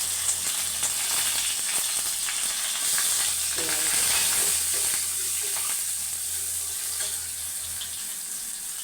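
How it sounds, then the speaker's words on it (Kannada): Tempering for upma sizzles in a hot pan, a steady, dense hiss of frying oil that stays close and even throughout, with faint clatter and no voices. "ಇದು ಉಪ್ಪಿಟ್ಟು ಒಗ್ಗರಣೆ"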